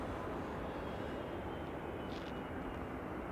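A TUI Dreamliner airliner departing Manchester Airport gives a steady, distant jet engine roar that holds evenly throughout, with no talking.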